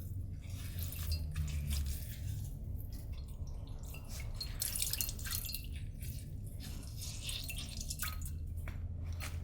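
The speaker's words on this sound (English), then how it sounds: "I never thought I would miss sinks as much as I do. Running water." Running water drips and splashes in a sink, in a quiet Last of Us roleplay setting; soft, close, irregular drips and wet trickling carry on over a low steady background for about nine seconds.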